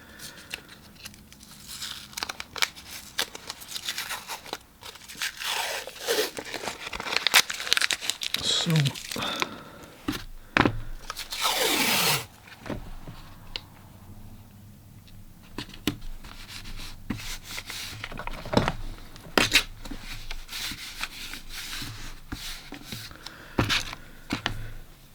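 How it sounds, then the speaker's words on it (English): Artist tape, 3/4 inch wide, is pulled, torn and pressed along the borders of watercolor paper, producing close crinkling, tearing and rubbing sounds in scattered bursts beneath a person speaking for most of the stretch. "And then I'll use like a 3/4 inch wide artist tape for the top and the side borders here."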